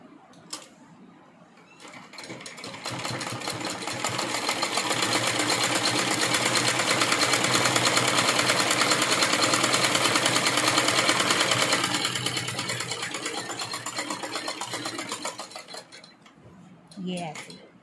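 Sewing machine stitching fabric for an A4 document file organiser, ramping up from quiet to a long steady rapid mechanical clatter, then slowing and stopping with a faint clink near the end.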